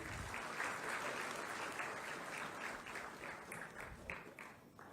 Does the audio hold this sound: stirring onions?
no